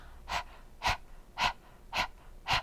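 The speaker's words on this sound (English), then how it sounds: "we'll be panting as if like a dog going" Breath work for singers: a voice pants like a dog, giving five evenly spaced, close, breathy pants about half a second apart, with no words.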